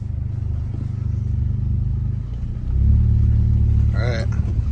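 A VW Tiguan converted from the 09G gearbox to a DQ250 DSG idles with a steady low engine hum, then the note deepens and grows louder as it is shifted into drive, with a brief higher tonal chirp near the end.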